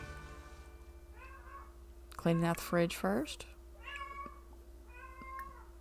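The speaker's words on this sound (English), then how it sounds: "Ignore the cat in the background." A cat meows several times in the background of a home setting in The Sims 4, short high-pitched calls scattered through the clip, with a louder burst of meows in the middle, while a person talks over it.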